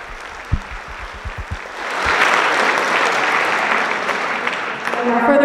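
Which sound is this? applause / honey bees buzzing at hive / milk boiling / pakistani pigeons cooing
applause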